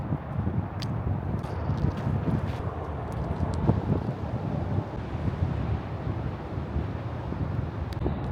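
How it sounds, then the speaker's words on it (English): Steady, strong wind roaring and buffeting against the broad side of a bus, with low rumbling gusts throughout and no voices. "the wind hitting the broad side of the bus is a lot"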